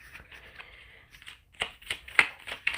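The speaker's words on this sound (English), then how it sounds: "Pull more cards." Tarot cards are shuffled and pulled by hand, starting with soft rustling and then moving into a run of sharper, quick card flicks and snaps, close and fairly loud.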